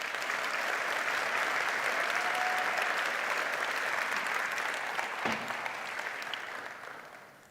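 A large audience at a Stellenbosch University graduation ceremony gives a sustained round of applause for departing musicians. The dense, steady clapping fills the hall and fades out toward the end.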